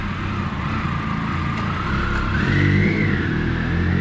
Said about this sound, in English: This is clutch dragging. Yeah, clutch is dragging a bit.